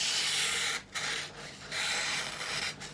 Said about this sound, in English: Paper slicing. Definitely sounds much finer, is much finer.